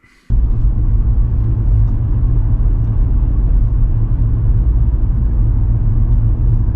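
A car rumbles loudly from the inside while driving up to a lay-by, a steady low engine and road drone that starts abruptly after a brief quiet moment and holds evenly throughout.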